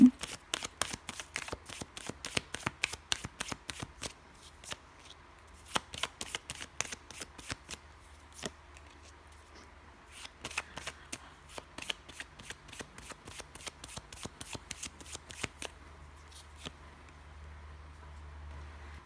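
Tarot cards being shuffled up close in repeated bursts of crisp, rapid riffling flicks with brief pauses between rounds, fairly quiet, with faint low background hum.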